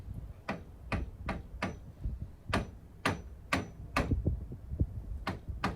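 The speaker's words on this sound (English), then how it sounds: "afterwards use the aluminum tool just to tap it on. Tap both sides, nice and even." An aluminum tool taps a part onto a 2000s Kona Chute mountain bike during a build, giving a series of close, sharp taps at an uneven pace.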